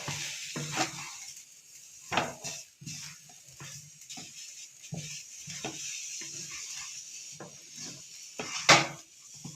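Coconut and cashews with steamed samba wheat rava in ghee, a soft sizzle under repeated scraping and clinks of a spoon against the pan, close and irregular.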